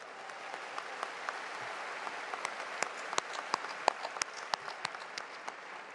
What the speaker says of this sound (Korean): 뜨거운 감사의 결의의 박수를 이 시간 올려주시면 고맙겠습니다